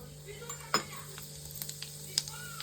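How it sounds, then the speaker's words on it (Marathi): Mustard seeds and cumin hitting hot oil in a heated kadhai crackle with a soft sizzle, scattered small pops and a few metallic clinks of a spoon against the pan, quiet and close, with a steady hum behind. "तेल चांगलं तापलेलं आहे तर त्यामध्ये टाकूया राई जिरा"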